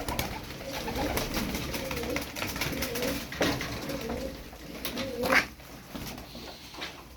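Pigeons coo steadily in a close, busy loft of about 20 birds, several overlapping in soft repeated rolling calls, with a brief sharper flutter partway through.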